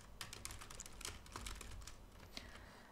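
Quiet, rapid keystrokes on a computer keyboard patter along in an uneven stream, with a few louder taps standing out among the soft clicks.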